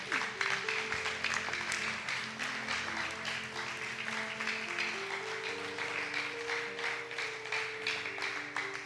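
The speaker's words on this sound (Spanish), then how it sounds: "Denle un aplauso a Dios en esta noche," A congregation at an evening church service claps steadily to honor God, sustained applause with sustained organ or keyboard tones held underneath, no speech.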